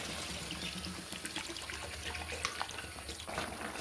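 Broth pours steadily into a simmering potato, ridge gourd and Catla fish curry, a soft continuous liquid trickle and splash that stays faint and even throughout, with no voices.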